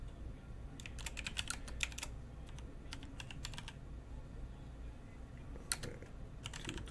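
Quick clusters of keystrokes on a computer keyboard, close and crisp, separated by short pauses in a quiet room.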